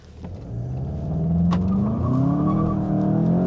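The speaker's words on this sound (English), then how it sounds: "here's where we do our traffic light Grand Prix acceleration test" A 2019 VW Jetta GLI 35th Edition with a DSG gearbox accelerates hard in sport mode from a traffic light, its engine note climbing steadily and loud inside the cabin, with a brief sharp click near the middle and no talk.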